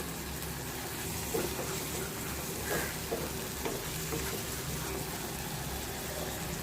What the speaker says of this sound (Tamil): நல்லா வதங்கி வரட்டும்